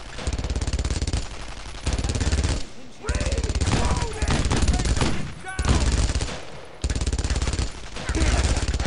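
German MG machine gun firing in Brothers In Arms: Road To Hill 30, long loud automatic bursts broken by short gaps, with voices shouting over the fire at times.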